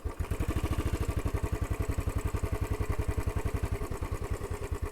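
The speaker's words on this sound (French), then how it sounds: "C'est vraiment la moto qui tourne le plus sur place." A motorcycle idles and putters with a steady, rapid, even engine pulse as it turns at full steering lock on the spot, close and clear, without voices.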